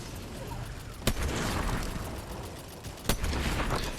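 A burst weapon fires in Fortnite Chapter 5 Season 1 custom-game practice: two sharp, loud cracks about two seconds apart punch through a constant rumbling game ambience.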